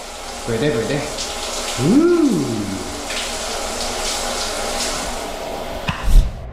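Shower water runs steadily at close range in a truck stop shower, a broad hiss of spray with a brief rising and falling tone midway and a short knock near the end.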